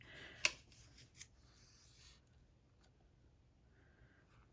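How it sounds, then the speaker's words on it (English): Very sharp scissors give one crisp, close clip, followed by a second fainter snip, while paper crafts for a card kit are being made. Quiet rustling trails after the cuts, and nobody speaks. "Then I'm going to take my very sharp scissors, clip it."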